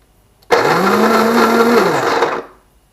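An electric coffee bean grinder in a Talbot Express Autosleeper motorhome starts abruptly and whirs loudly for about two seconds at a steady pitch, then winds down and stops.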